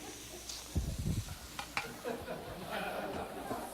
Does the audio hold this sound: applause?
no